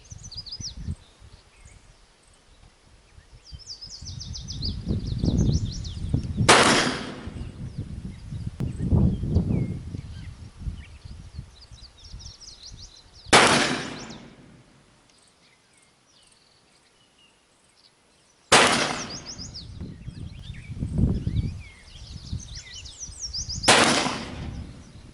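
Four sharp, loud reports ring out outdoors, evenly spaced several seconds apart, from an Uberti 1851 Navy revolver firing black powder loads. Each shot has a short decaying tail, with faint birds and insects between them.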